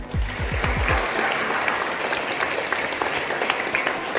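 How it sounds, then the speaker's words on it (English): Applause from a school crowd at an annual sports day, a sustained broad wash of clapping that holds steady and fairly close for several seconds after a brief voice at the start. "Let us clap their hands."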